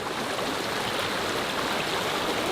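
A waterfall in Sri Lanka rushes in a loud, unbroken wash of falling water, close and steady for the whole moment with no voices.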